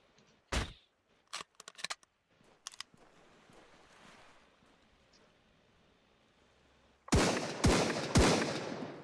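Gunfire in the survival video game Sunkenland, a few sharp separate shots, then a low rushing stretch, then a burst of loud close rapid shots near the end.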